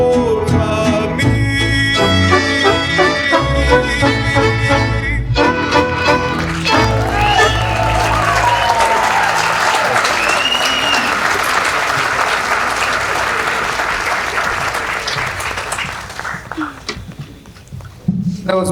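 An audience at a high school mariachi performance bursts into loud, sustained applause and cheering right after the last chord, with a close crowd clapping that slowly thins out toward the end.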